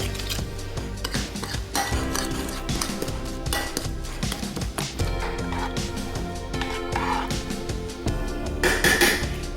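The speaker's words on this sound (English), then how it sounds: "I'm going to mix this well and put it on top of my meatloaf." A spoon clinks and scrapes against a bowl while brown sugar topping for meatloaf is stirred, a busy run of small metallic taps and rubs, close and steady.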